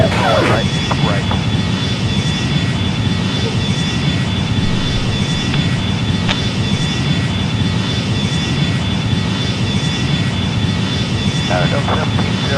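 A Boeing 777 jet in the flight game Airline Commander roars steadily through its takeoff run, a loud continuous engine drone that fills the whole stretch, with occasional brief game tones and radio-style voices over it.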